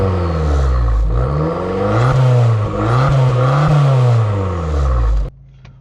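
An Abarth 595 Competizione's small petrol engine is started and blipped through several rising and falling revs, loud and close, then cut off abruptly near the end.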